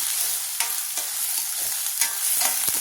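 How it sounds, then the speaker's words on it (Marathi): Onion with ginger-garlic paste hisses steadily in a hot pan, a bright continuous sizzle close by, broken by a few scraping stirs and no voices. "कांदा थोडासा लाल झाला म्हणजे आपण काय करायचं, हे अद्रक आणि लसणाची पेस्ट पण टाकायची."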